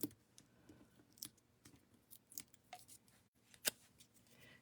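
Quiet snipping and clicking of scissors cutting, a series of irregular crisp snips close by, with one sharper cut near the end.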